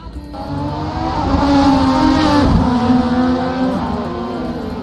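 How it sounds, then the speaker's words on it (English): Loud, close Indy car engines in a racing sim at Indianapolis roar and rise in pitch together, one swelling past mid-way, with a faint tire squeal under the steady howl. "let's hear the roars of these Indy cars now"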